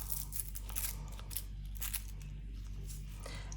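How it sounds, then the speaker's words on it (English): Small bits of nail-art foil are crumpled between fingers, producing soft, close crinkling and crackling bursts over a low steady hum. "I'm just going to crumple up some little bits of foil that I've got here."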